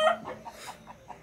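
Chickens kept in the lower part of a coop with pigeons housed above give a brief run of soft clucks, close by and without talking.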